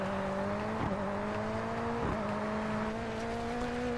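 Rally cars in DiRT 4 drone steadily with shifting pitch at a Rallycross event in Sweden, two quick downshifts breaking the whine, loud and continuous with no voices.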